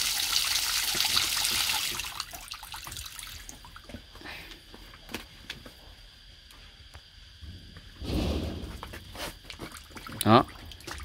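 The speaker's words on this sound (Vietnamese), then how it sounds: "Nước nó sẽ chảy róc rách từ từ thôi. Nhưng bây giờ mới thì mình cứ cho nó chảy đầy đi đã." Water runs and trickles into an automatic drinking trough on an ostrich farm, a steady flow with splashing bursts, while someone talks over it.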